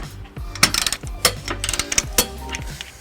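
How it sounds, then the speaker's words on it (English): Close, rapid clicking of a ratchet wrench with a 19mm socket tightening a trailer hitch stud on a 2007 Chrysler Town and Country, in several quick bursts with brief pauses. "we'll be using a 19mm socket, so we'll go ahead and tighten that down"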